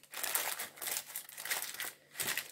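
Aluminium foil crinkling while being wrapped over vegetables for oven-baked chicken, close, crisp bursts of crumpling in an irregular rhythm, quiet and alone.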